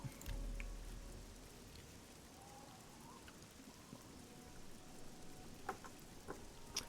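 Rain falls steadily in Elder Scrolls IV: Oblivion, a soft continuous patter of drops at moderate distance with a few brighter splashes, heard alone without talk.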